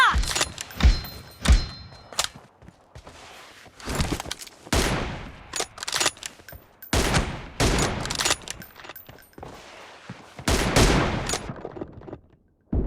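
Rapid bursts of gunfire in a video game, sharp repeated shots and fusillades clustering in several loud volleys across the whole stretch, with brief quieter gaps between them and no talk.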